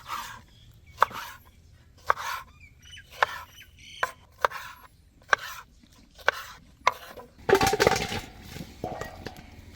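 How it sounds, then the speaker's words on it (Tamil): A knife cuts through seeded jackfruit on a board, about a dozen crisp, close chops at uneven intervals, ending in a denser scraping flurry, with no talking. "நைஸாக நம்ம விதை எடுத்த பலாப்பழத்தை வெட்டிக்கிறோம்"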